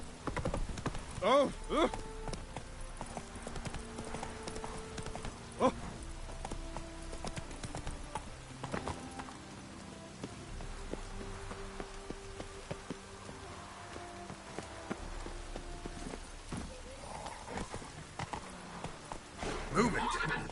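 Roach the horse gallops in The Witcher 3 on PS5, with rhythmic hoof clip-clops over rain and ambient game sounds while a player briefly exclaims.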